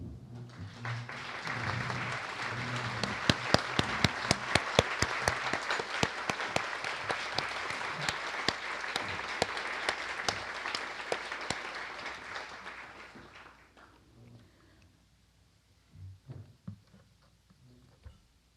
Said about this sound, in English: the round of applause to these wonderful volunteers